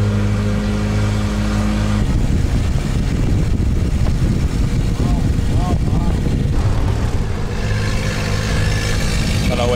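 Tuk-tuk in Loei, Chiang Khan, Thailand, loud engine drone and rumbling road noise close up, with gear-shift pitch changes and people talking over it.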